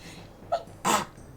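A single short, sharp sneeze bursts out close by after a faint preceding intake of breath, then quiet.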